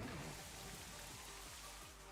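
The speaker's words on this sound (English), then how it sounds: "get the nice rain up." Steady game rain from the Rain Dance move in a Pokémon VGC battle, a soft, uniform hiss of falling drops at low volume with no other sound.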